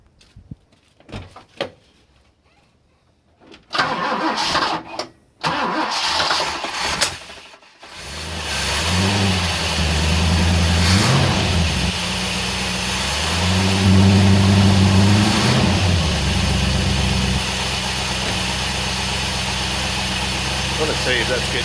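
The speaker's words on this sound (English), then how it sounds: "I'm just going to start the engine" A Ford XD Falcon V8 with a choke problem cranks and fires after a few quiet seconds of handling noise, then settles into a loud, steady idle with rising revs and a rough, uneven note, under occasional talk.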